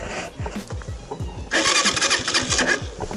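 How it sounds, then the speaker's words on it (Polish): A Junak K125 motorcycle kick-started on a spring ride: a run of rhythmic low starter thumps, then the engine catches and runs loud and close with a rough, buzzy idle. "O, jeszcze mi furka nie będzie chciała odpalić."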